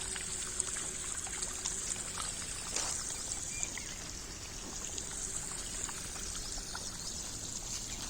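Water trickles and drips steadily from a drip irrigation line onto plants, a soft continuous flow with faint scattered droplets, quiet and close, with no talking.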